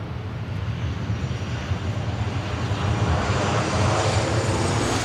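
Airliner flying close by near a runway at Los Angeles International Airport, a loud, steady broadband engine roar that builds slightly as it passes, with no talking.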